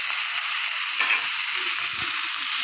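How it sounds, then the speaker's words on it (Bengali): Boiled Malabar spinach drops into a pan where shrimp fry in spices, a steady close hiss of sizzling oil with faint stirring clatter and bubbling underneath. "এবার এখানে সেদ্ধ করে রাখা শাকটাকে দিয়ে দিলাম"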